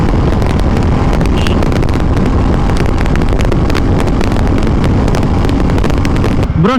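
A Royal Enfield Classic 350 with a 350cc engine rides in fourth gear. Its engine drones loudly and continuously, buried under heavy, buffeting wind rush at the microphone throughout.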